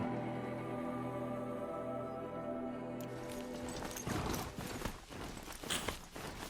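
Horse hooves clip-clop in Horizon Zero Dawn, starting midway as a busy, uneven run of hoof falls over a steady ambient drone, close and moderately loud.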